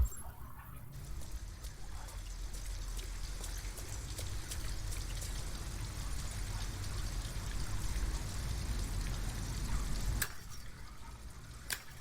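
Steady rain falls in the video game Detroit: Become Human, a continuous hiss of drops on surfaces with scattered sharper ticks, holding an even level for the full stretch.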